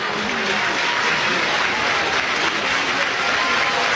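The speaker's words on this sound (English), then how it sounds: "Crowd comes alive." Crowd at a college softball super regional game between Oklahoma and Florida State cheering and clapping, a loud, continuous roar of applause with faint commentary voices underneath.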